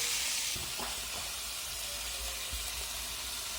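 Daube meat browning in a wood-fired oven gives off a loud, steady sizzle and hiss with a few soft knocks and scrapes of stirring near the start, close and continuous throughout.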